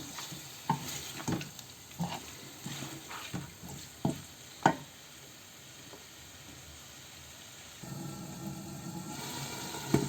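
Meat cooking in a pan for a bottle gourd curry, with a steady sizzle and hiss broken by several sharp stirring scrapes and clinks. Near and clear, with no talk.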